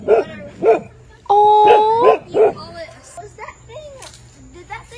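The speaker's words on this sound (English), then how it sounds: "There's a dog right there." A dog barks several times in short, sharp bursts, with a brief howl-like yelp, close and loud, while a person makes an affectionate exclamation.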